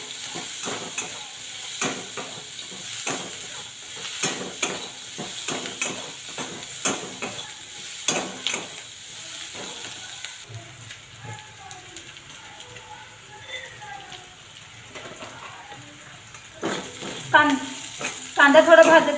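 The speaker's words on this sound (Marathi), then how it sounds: "आणि कांदा भाजत असताना थोडीशी कोथिंबीर टाकून घ्यावी" Onion fries in a pan with coriander added, soft crackling sizzle running under frequent stirring clatter and near talk.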